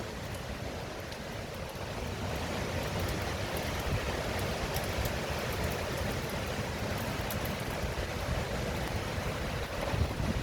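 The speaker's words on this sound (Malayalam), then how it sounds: "തിരുവനന്തപുരത്ത് ഭയങ്കര മഴ" Heavy rain falls in Thiruvananthapuram in the evening, a steady, dense hiss that continues without a break and without voices.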